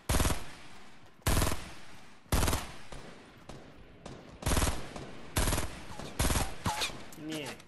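Fortnite gunfire comes as a string of loud, separate shots spaced about a second apart, each sharp and close, with faint talk in the gaps between them.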